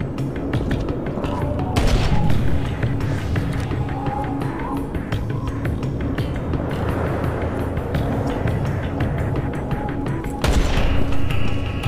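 Gunfire in the shooter game Modern Combat 3: Fallen Nation, bursts of shots and booms crackling through a dense battle mix, loudest near the start and the end, with voices shouting over it.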